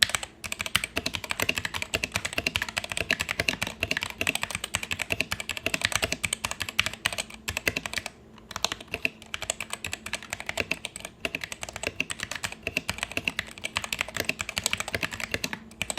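Steady, fast typing on a Punkston mechanical keyboard with smooth linear red switches, dense clacking keystrokes throughout with a brief pause midway, close and clear.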